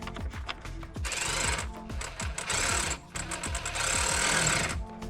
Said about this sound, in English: We'll just screw this in place with these spaced out screws.